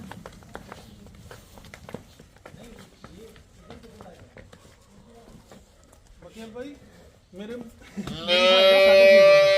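Jersey cows at a farm, with a loud, drawn-out moo rising near the end after a stretch of people talking nearby.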